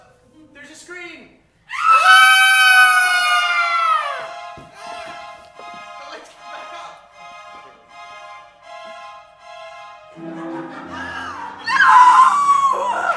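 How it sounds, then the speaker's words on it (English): A long, loud scream rings out during a live stage murder-mystery performance, starting shrill and sustained, then trailing into a lower wavering cry, with a spoken line near the end. "There's a scream."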